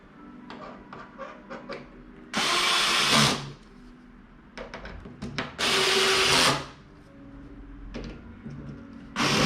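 A power drill drives screws into a ladder bookshelf during assembly, two long loud whirring bursts separated by tapping and handling clatter, close up.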